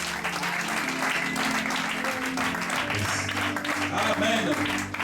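A church congregation at a French-language worship service applauds loudly and steadily with cheering, and a voice comes through over the dense clapping.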